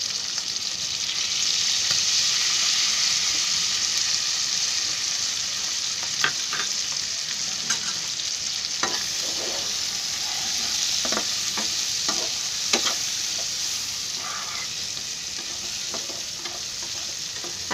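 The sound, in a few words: stirring crab curry masala frying in a pan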